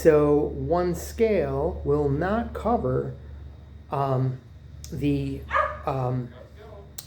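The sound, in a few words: dog barking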